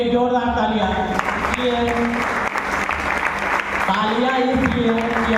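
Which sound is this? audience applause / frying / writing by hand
audience applause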